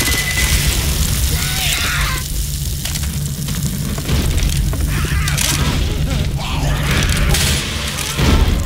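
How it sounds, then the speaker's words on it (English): Pipe bomb blowing up in Left 4 Dead 2, a loud booming blast with crackling debris over constant game noise and zombie chaos, the explosion rolling through the middle of the clip. "Throwing a pipe bomb!"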